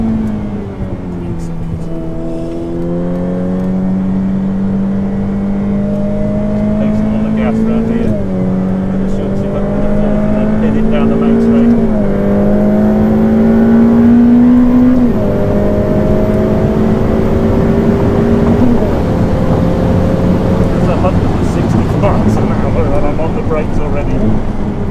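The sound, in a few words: Ferrari F8 Tributo driving at high speed on track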